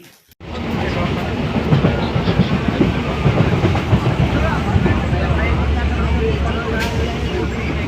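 A passenger train rumbles along loudly with a rhythmic clickety-clack of wheels over rail joints, a heavy continuous roar starting just after a brief quiet moment, with voices talking over it.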